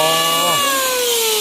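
A loud, close power drill whines steadily during house roof repair work, its pitch dipping briefly as the bit bites, then running on at high speed.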